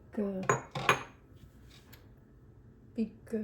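Metal spoon clinking and scraping in a bowl while scooping thick drained yogurt, with several sharp clacks early on and a couple more near the end.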